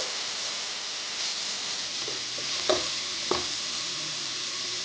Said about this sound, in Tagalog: Nagigisa po ang ating bawang, sibuyas at luya